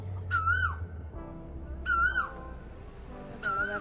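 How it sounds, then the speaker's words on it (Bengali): An Asian koel calls from a tree in rural Bengal beside empty harvested paddy fields, three clear rising whistled notes spaced about one and a half seconds apart over a low rumble of background noise. "এইখানে কোনো একটা গাছে বসে কোকিল ডাকছে।"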